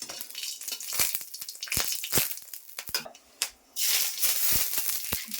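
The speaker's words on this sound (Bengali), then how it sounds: "শুকনো লঙ্কা দিচ্ছি শুকনো লঙ্কা একটু ভাজা ভাজা হোক" Dried red chillies fry in a hot wok, giving an uneven crackling sizzle that rises and falls in bursts, broken by sharp clicks and scrapes of stirring against the metal.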